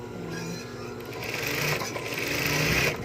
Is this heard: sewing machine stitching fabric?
yes